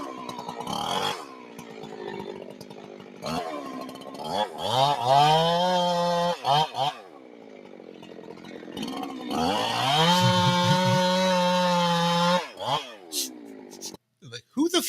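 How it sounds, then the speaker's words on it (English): A chainsaw revs in bursts, its engine note rising and falling repeatedly with short idle gaps between pulls, loud and close, while a voice talks intermittently. "who the fuck gets an actual chainsaw?"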